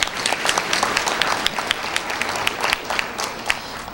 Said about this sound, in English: So you give yourself a round of applause.